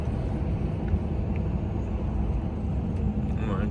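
A Volvo car drives along, its engine and road noise forming a steady, low rumble inside the cabin, with faint voices at times.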